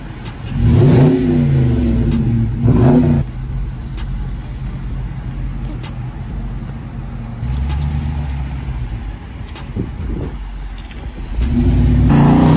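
A brand new 2023 Dodge Charger RT revs hard and loud up close, with roaring bursts of throttle separated by a rumbling idle.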